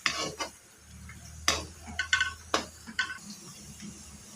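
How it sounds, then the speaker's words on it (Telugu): Okra pieces and boondi fried together in a pan, a low frying hiss broken by several sharp spatula scrapes and clicks against the pan, close and irregular. "రెండు వంతులు బెండకాయ ముక్కలు అయితే కనుక ఒక వంతు బూంది వేసుకోవాలి ఇలా కలుపుకుంటూ వేపుకోవాలి"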